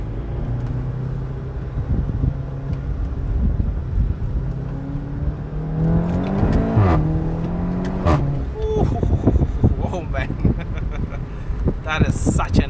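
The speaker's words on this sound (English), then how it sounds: "That is such an insane exhaust." Throaty exhaust of a VW Golf GTI TCR with a 290 PS engine and DSG gearbox, revving up through rising pulls with crackling bursts between shifts, loud and close from inside the car, with someone talking over parts of it.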